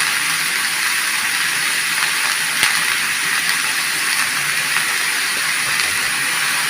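Chichinga frying in hot oil with green chilies and salt makes a loud, continuous sizzling hiss that holds steady from start to finish, with a faint clink partway through.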